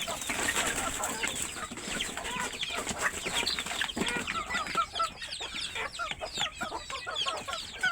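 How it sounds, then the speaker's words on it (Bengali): A flock of domestic desi chickens clucks busily and continuously at close range while eating corn flour mixed with water, many overlapping calls with no talking. "ভুট্টার গুঁড়াটাই দিচ্ছি এবং এর সঙ্গে পানিটা মিক্স করে মুরগিগুলোকে আর কি খেতে দিয়েছি"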